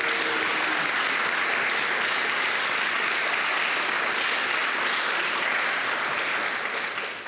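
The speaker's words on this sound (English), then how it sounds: "Why don't we give one more round of applause to Doreen?" An audience at an American University event on inclusive tech policy gives a sustained, dense round of applause that stays steady for several seconds before tapering slightly at the end.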